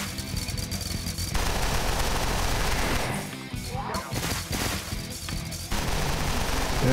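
Submachine gun fire rattles in bursts in the video game Deadbolt, dense loud volleys with brief gaps and crashing impacts mixed in, game music and effects layered underneath.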